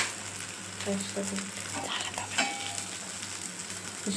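Lote fish (Bombay duck) fries in a wok as it is stirred, with a steady low sizzle and occasional scraping and clinking of the spatula against the pan, close by.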